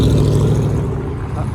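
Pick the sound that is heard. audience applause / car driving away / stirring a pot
car driving away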